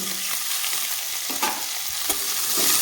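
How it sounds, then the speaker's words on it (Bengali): Vegetables with carrot and chopped egg are stirred in a frying pan, giving a continuous close sizzle broken by a couple of spatula scrapes and knocks, no voices. "তো একটু আমি নেড়ে চেড়ে নেবো সবজিটা"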